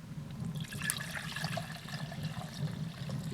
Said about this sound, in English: just chuck some cold water in.